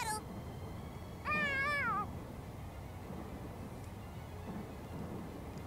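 A cat in the video game Tales of Xillia 2 gives one clear, wavering meow near the start, heard over a steady rumbling game background with no voices.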